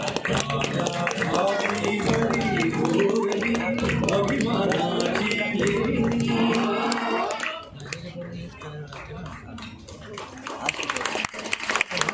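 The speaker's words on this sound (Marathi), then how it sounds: "टाळ्यांची साथ घेऊया. टाळ्यांची साथ." An audience at a Chhatrapati Shivaji Maharaj event claps along in rhythm beneath a loud voice singing or proclaiming, and the claps stand out more clearly once the voice drops.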